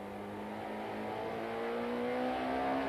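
Touring cars, including a Ford Mondeo and a BMW, race at Kyalami circuit toward a 90-degree left-hander, engines droning loud and steady with rising pitch as they accelerate, no talk over them.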